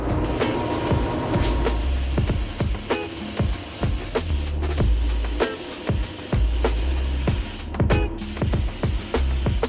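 A spray gun hisses continuously while painting a car inside an auto body spray booth, with a steady loud rush broken by repeated soft clicks and a few brief pauses.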